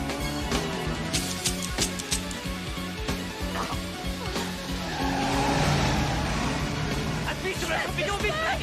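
A car accelerates hard with screeching tires during a chase in an action film, its engine roar blended with loud dramatic music and background commotion throughout.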